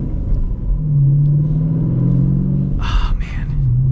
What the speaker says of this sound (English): Love the muscle car sound,